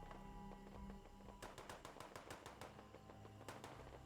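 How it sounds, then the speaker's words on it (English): Distant gunfire from the dam in the online game Fallout 76, a burst of rapid shots followed by a few more cracks, faint and far off beneath a steady game ambience. "I am hearing gunfire over there."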